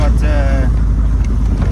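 A Backdraft Cobra engine idles while warming up, a loud, steady low rumble that fills the whole clip close to the microphone, with a voice briefly heard over it near the start.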